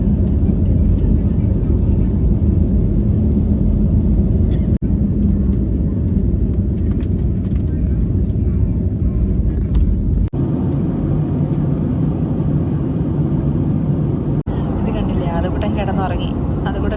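Aircraft cabin rumble as a passenger plane slowly taxis on the ground before take-off, a loud continuous low drone with occasional clicks and voices talking underneath.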